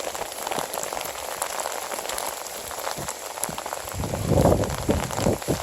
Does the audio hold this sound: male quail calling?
no